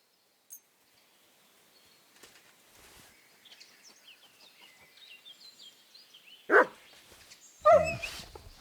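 A dog in the game Kingdom Come: Deliverance II lets out a sharp bark, then another a second later, after quiet whimpers and faint birdsong in an open outdoor setting.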